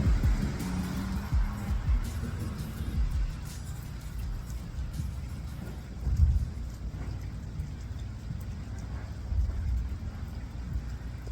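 Rain falls steadily on a rainy day, with low rumbles of thunder swelling around the middle, a continuous outdoor wash with no talk.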